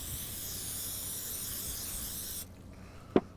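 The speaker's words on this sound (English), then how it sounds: "we're going to go ahead and spray it down" Steady hiss of an aerosol cooking spray onto an aluminum sheet for a couple of seconds, then it stops, followed by a brief faint knock.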